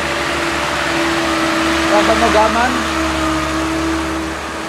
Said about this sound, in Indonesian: Ini banyak kendaraan yang masih mencoba melintasi dulur.